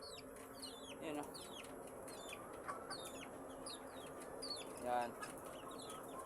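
Native chickens cluck and call repeatedly at a farm while multivitamins are mixed into their drinking water, with soft bird chirps throughout and a person speaking briefly among them.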